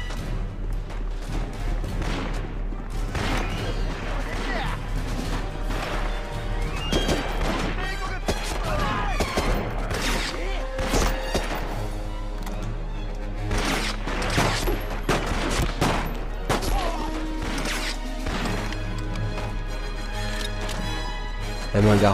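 Gunfire in the PS2 war game Medal of Honor Rising Sun: dense, continuous bursts of shots and explosions over a steady low rumble and game music. Someone talks over the action throughout.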